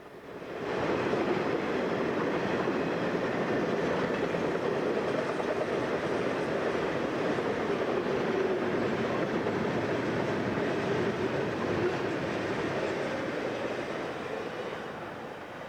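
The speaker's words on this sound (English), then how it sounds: "Southbound Union Pacific" Southbound Union Pacific freight train along the Mississippi River, passing close as a steady heavy rumble of rolling wheels and cars that holds for the whole stretch and eases slightly at the end.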